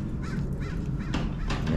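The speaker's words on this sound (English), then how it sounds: "And there is the crows? Yeah, always the crows." Crows caw in a cemetery, several harsh calls repeating in an uneven rhythm from a moderate distance, heard alone against a faint outdoor background.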